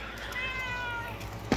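A house cat gives a single drawn-out meow at close range over a steady background hum, followed at the end by a short sharp knock or bump.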